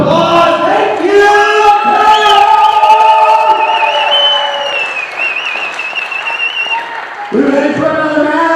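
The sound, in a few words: wrestling crowd applause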